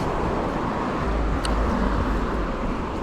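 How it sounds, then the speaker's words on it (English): Loud, steady roar of city traffic on a busy street, with cars passing continuously close by; no distinct jackhammer bursts stand out from the dense road noise. "It gets really loud in this area due to the cars and jackhammers"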